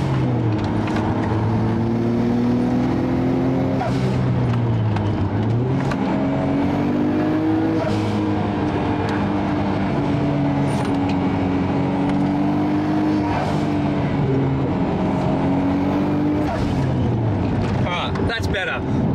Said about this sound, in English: drive it a little bit more like the way you'd drive a GTR. And that's with a little bit more RPM on board